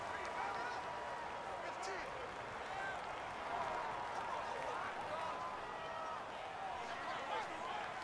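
Stadium crowd noise in Madden 19, an NFL video game with the Atlanta Falcons at the Philadelphia Eagles, a steady dense roar of cheering home fans that holds at an even level throughout, with no break or lull.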